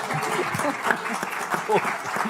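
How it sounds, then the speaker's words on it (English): A conference audience claps in a warm round of applause for a panel at a plenary session on Brazil. The steady clapping runs beneath a speaking voice for the whole stretch. "A warm round of applause for our panel."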